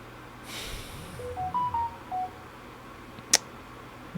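A mobile phone gives a short melodic notification of several stepped electronic tones, moderately loud and close. A sharp click follows, over a quiet, breathy room background.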